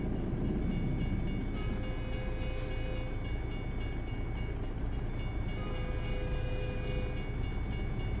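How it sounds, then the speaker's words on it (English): A steady, distant rumble of a passing train in the video game American Truck Simulator, with faint tonal hums above it, continuous and even throughout. "Hear a train somewhere."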